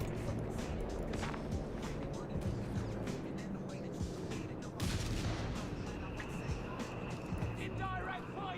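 Artillery indirect fire in Company of Heroes 3, with repeated booming impacts and gunfire over battlefield rumble, mixed with vehicle noise and game voices.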